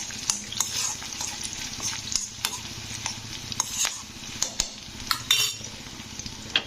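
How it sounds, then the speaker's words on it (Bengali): Curry leaves fry in a pan of hot oil for homemade herbal hair oil, giving a steady close sizzle broken by scattered scraping and clinking of a utensil against the pan. "এবারে আমি কারি পাতাগুলো দিয়ে দিলাম। তো কারি পাতাগুলো দিয়ে একটু ভেজে নিতে হবে।"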